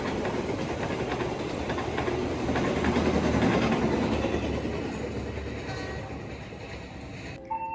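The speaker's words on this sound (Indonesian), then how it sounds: "Nah ini keretanya yang mau aku naikin udah datang." A commuter train arrives at Kedunggedeh station with a loud, steady rumble and rhythmic clatter of wheels on the rails, swelling as it passes close and then easing, ending with a brief high squeal.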